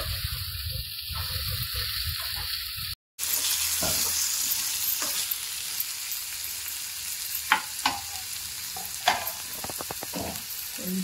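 Sprouts and chicken frying in oil in a pan, a steady close sizzle running throughout, broken by one brief cutout and a few sharp stirring clicks near the end.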